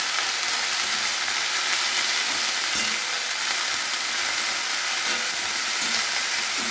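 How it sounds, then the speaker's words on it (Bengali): Red amaranth greens fry in a pan with cumin seed tempering and green chillies, a steady, close, dense sizzle running without pause and without talk. "ভালো করে শাকটা আমি একটু ভেজে নেবো"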